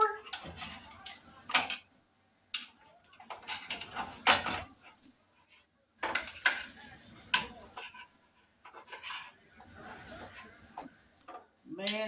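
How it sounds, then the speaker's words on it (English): Metal tongs clink and scrape against an Instant Pot while barbecue ribs are flipped, making scattered close clacks and taps between pauses, with a person talking throughout. "Let's get the tongs where we can flip them over."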